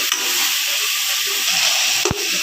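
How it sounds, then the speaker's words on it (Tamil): A hot tempering poured into fish curry sets off a loud, steady sizzle and hiss that runs throughout, close by, with a brief clatter near the end and no talking. "இப்போ தாளிப்பு ஊற்றிடுறோம்"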